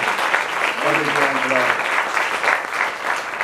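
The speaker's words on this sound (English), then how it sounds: "how about a round of applause for the amazing cast that surrounds Freedom Court in this film?" A theater crowd at a 40th anniversary screening of HAIR at the Metrograph in New York applauds the film's cast. The clapping is full and steady, with a voice briefly heard over it near the start.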